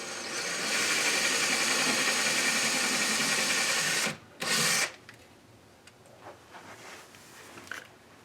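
A power drill drilling slowly into a wall whines loudly and steadily for about four seconds, stops, gives a brief second burst, then quiet rustling and small clicks follow.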